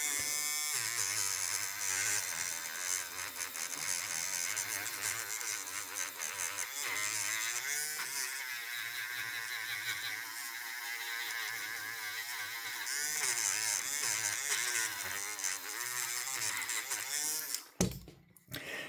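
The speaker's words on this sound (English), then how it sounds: "Take a rotary tool with a cotton buffing pad, run it at low RPM" A rotary tool spinning a cotton buffing pad at low speed while it is worked over a 2011 pistol grip module, giving a steady, close, continuous buzzing whine that runs almost unbroken before cutting off near the end.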